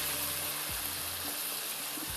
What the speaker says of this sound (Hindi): थोड़ा सा इसको मैं इस तरह से भूनूंगी मसाले के साथ।